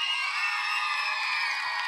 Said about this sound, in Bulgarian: да чуя аплодисментите ви за Патрисия